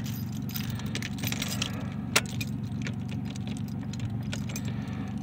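Keys jangle and clink faintly while the ignition of a 1986 Ford Bronco II is being replaced, with scattered metallic taps and one sharp click over a steady low hum.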